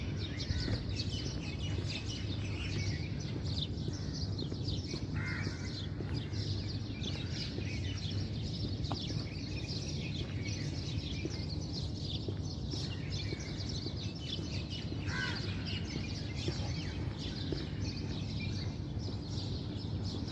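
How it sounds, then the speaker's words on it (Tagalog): Birds call noisily somewhere amid busy traffic with many vehicles, their faint scattered chirps and caws rising over a constant low rumble of the street. "Ang iingay na ng mga ibon mga kaibigan."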